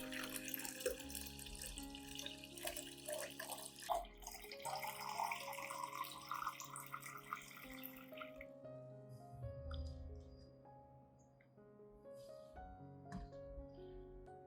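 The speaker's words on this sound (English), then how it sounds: "I will dilute the solution with 1 liter of clean water." Clean water pours into a container to dilute a potato peel solution, a steady running, splashing stream loud for the first half and then quieter trickling and dripping, close by with no talking.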